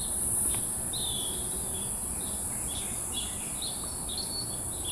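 Cicadas at dawn in Taiwan drone as a steady, loud high-pitched buzz throughout, with bird chirps and tweets scattered over it in a continuous natural ambience.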